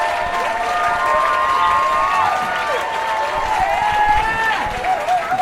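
A comedy club audience applauding and cheering, a dense, steady wash of clapping with whoops and shouts, loud and close, with voices mixed in.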